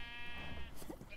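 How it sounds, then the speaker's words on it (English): A sheep in the Minecraft video game gives a single clear bleat over a steady, tonal in-game background hum. "These sheep are eating again."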